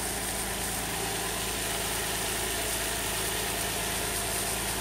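A Nissan VQ35DE V6 idles smoothly and steadily after a timing adjustment, a close, even engine hum and exhaust drone running throughout with no talk.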